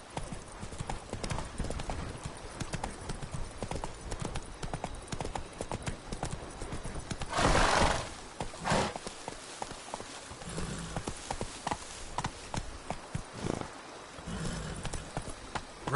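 Hooves of Roach, a horse in a video game, clip-clopping at a steady galloping rhythm, fairly quiet, with a brief snort or whinny-like burst partway through.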